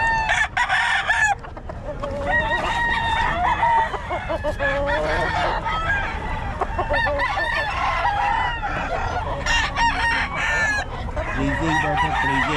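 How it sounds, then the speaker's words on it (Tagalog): Farm chickens cluck busily while roosters crow repeatedly in long, rising calls, close and loud, one crow after another with no voices over them. "Manok lang nakakarami dito eh."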